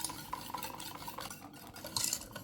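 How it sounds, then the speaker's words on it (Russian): A whisk stirs a dry custard base of sugar, starch and flour in a bowl, giving a close, steady scraping and swishing with rhythmic taps against the sides. "Перемешиваем венчиком до однородной консистенции."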